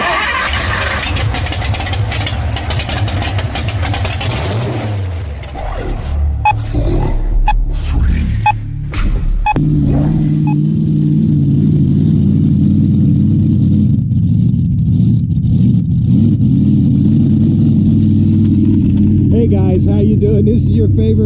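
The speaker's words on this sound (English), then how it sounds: "We are on Dad's new go buggy." A go buggy's engine running and revving, busy and uneven at first with clattering, then settling into a steady drone while driving; voices chatter over parts of it.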